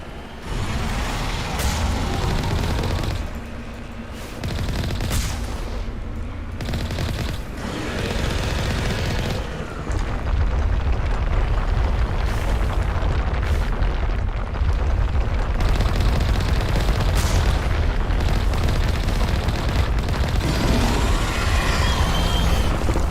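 Gunfire in the video game Mass Effect: loud, close bursts of rapid shots and booming impacts that keep up almost without pause, growing heavier toward the end.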